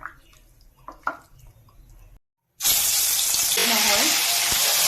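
Fish coated in turmeric fries in a pan, loud and close. The oil hisses and crackles continuously after a few faint clinks and a brief silence, and a voice speaks over it.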